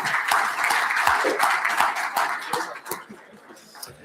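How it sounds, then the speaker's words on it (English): A conference audience at a 6G technology summit applauds panelists leaving the stage, a dense round of clapping with crisp individual claps that gradually thins and fades toward the end. "one more round of applause for our panelists as they leave, please"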